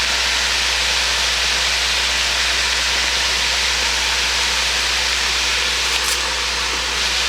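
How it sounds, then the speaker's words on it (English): Dried thyme and rosemary sauté in a hot soup pot, making a loud, continuous close-up hiss and sizzle that holds steady throughout with no talking. "the dried rosemary, and I'm going to saute it for another minute"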